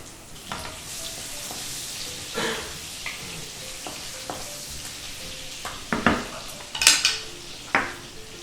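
Coarsely crushed garlic dropped into a hot pan for a rawas fish curry, a soft sizzle of frying with scattered clinks and scrapes of a utensil stirring against the pan, growing busier toward the end.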